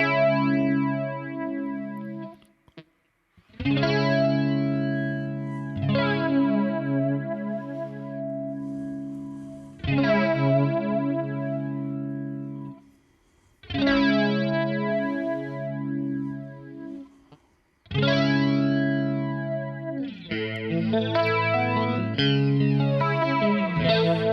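An electric guitar runs through Electric Mistress flanger and Kemper Profiler modulation effects, playing separate single notes and chords that ring out with a sweeping, swirling shimmer and short pauses between them, with no talking.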